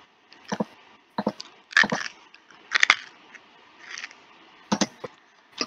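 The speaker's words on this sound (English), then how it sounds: "who wants to hear some crunchy ASMR?" Crunchy eating sound effect from the game Stardew Valley, a few short crisp crunching bites in separate bursts with brief pauses between, close and fairly loud, with no talk.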